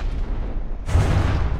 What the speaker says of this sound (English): Getting thoroughly showered in shells.